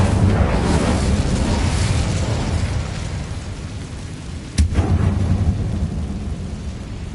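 Incendio fire spell cast in Hogwarts Legacy on PS5: a continuous loud roaring, rumbling blast with a sharp crackling burst midway, no talk.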